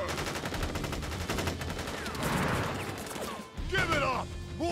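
A volley of gunfire erupts in a battle scene from a video game, loud dense shots and machine-gun bursts crackling together, followed by shouted voices and whooshing effects near the end.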